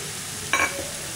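Garlic hitting a hot pan of spinach dal gives a brief burst of sizzling about halfway through, rising suddenly and fading over a fraction of a second against a quiet kitchen background.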